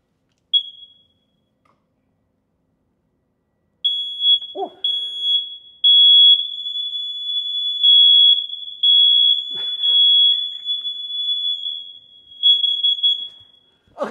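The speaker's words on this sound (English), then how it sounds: "we check smoke detectors" A smoke detector in a new house goes off during a home inspection, giving a piercing high-pitched alarm tone that sounds in loud, repeated bursts after a brief initial chirp, with a couple of faint knocks in between.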